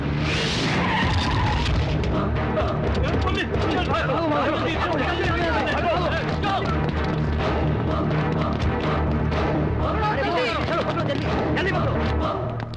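A car skids and crashes in a Hindi-dubbed action film scene, with loud, continuous tyre screeching and harsh impact noise while shouting voices run underneath throughout.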